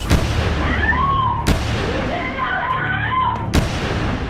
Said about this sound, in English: The alarmed operator can hear gunfire in the background.